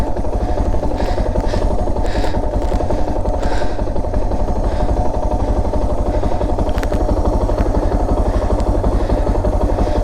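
A motorcycle engine runs steadily and loud throughout during slow riding practice drills, its constant low throbbing rumble close by with occasional clattering.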